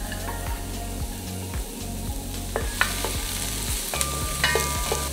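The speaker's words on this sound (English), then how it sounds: "So we're going to cook our onions and garlic." Onions frying in a pan as the base for a sauce, with steady sizzling and stirring scrapes in repeated rhythmic strokes, close and fairly loud, no voices.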